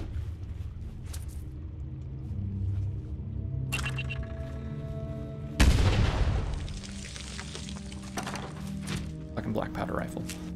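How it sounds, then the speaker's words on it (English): A black powder rifle fires in the video game Fallout 76: a single loud, booming shot with a rumbling tail rings out midway, amid game ambience and voices. "Black powder rifle."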